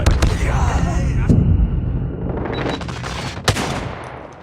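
Rapid machine gun fire in a video game on the Shipment map, loud and close, with sustained bursts and overlapping shots and no clear pause.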